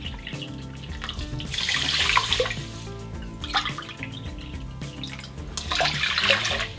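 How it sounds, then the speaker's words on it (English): Water pours steadily into a cooking pot holding a cup of quinoa, two cups in all, in a few splashy bursts of running flow with no talking. "We're going to add 2 cups of water."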